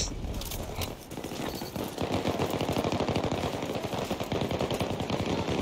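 Light machine gun fire in Battlefield 2042, loud rapid bursts of shots building into a sustained dense stream of gunfire with little talk over it.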